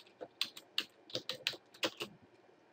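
Rapid, uneven keystrokes clatter on a computer keyboard while shortcut commands are entered in AutoCAD 2014, with sharp close clicks in small bursts and no talking.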